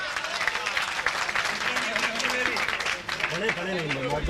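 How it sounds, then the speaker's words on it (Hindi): An audience claps at an All India Mushaira poetry gathering in Digras, a broad wash of applause mixed with crowd murmur and a voice speaking over it. "जोरदार तालियों से इस्तकबाल करें।"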